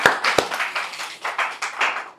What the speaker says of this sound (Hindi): अपने लिए जोरदार तालियां बजा सकते हैं